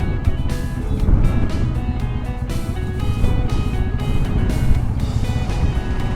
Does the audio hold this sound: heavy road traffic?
yes